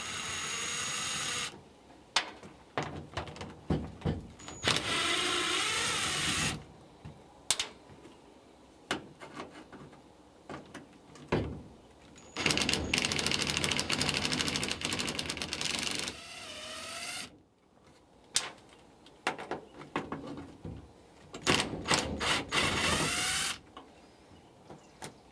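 Bolts being removed from the lower bracket under a 1968 Camaro fuel tank, likely with a power tool, in repeated whirring bursts of several seconds each separated by pauses, close and fairly loud.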